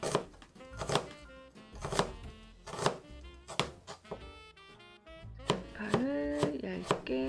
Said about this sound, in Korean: 양파를 얇게 썰어 주세요.